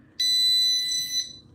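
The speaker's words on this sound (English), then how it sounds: "it beeps" A homemade distance-sensor circuit approaching a wall gives one shrill, steady electronic beep lasting about a second, clear against a quiet background.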